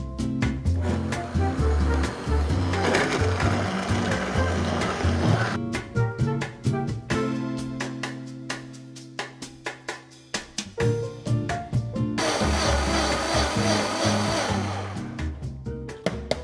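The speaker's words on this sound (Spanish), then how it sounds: "Vamos a licuar esto," A high-power blender blends apple for juice, a loud roaring whir that surges and changes pitch as the blade churns. It drops briefly into a lower hum midway, then roars up again.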